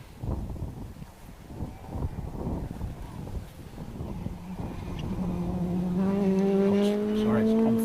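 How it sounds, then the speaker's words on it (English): A Citroen rally car leaves the start of a Circuit of Ireland Rally stage near Cookstown with its engine rising in pitch as it pulls away, loudest at the end, heard under steady commentary talk. "Donegal's PJ McDermott away in his Citroen."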